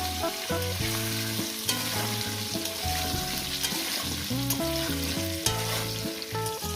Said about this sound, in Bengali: আমি কিভাবে আলু পটলটাকে সুন্দর করে ভেজে নিচ্ছি